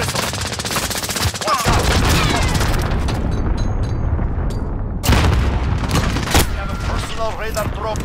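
Loud, dense Call of Duty combat: sustained automatic gunfire and booming cruise missile explosions during a hardpoint match, with a sharp blast near the middle and rattling fire continuing throughout, a game announcer's voice talking over it.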